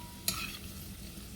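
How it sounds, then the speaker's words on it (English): Garlic hits a hot pan with black-eyed peas and onions and is stirred, giving a brief soft sizzle and spoon scrape, with a sharp clatter near the start and another at the end. "Let's go ahead and get that garlic in there."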